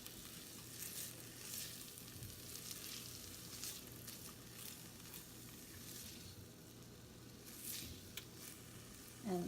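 Onions frying in oil in a soup pot for lentil soup give off a soft, steady sizzle with occasional faint stirring scrapes, continuous and fairly quiet, with no talk.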